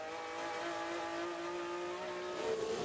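A race car climbs a hill on a racing course with its engine humming at a steady high pitch, holding the note and then rising slightly near the end, heard at moderate distance with no voices.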